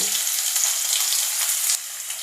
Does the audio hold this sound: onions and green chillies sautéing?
yes